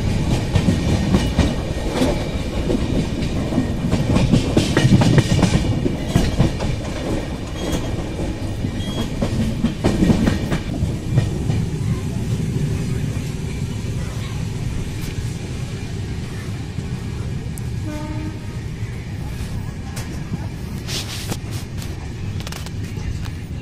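A train rolls along a railway line on the Mau Ranipur–Jhansi route as it reaches Barua Sagar station, giving a steady loud rumble with clickety-clack of wagons that eases slightly later on, with faint horn-like tones near the end.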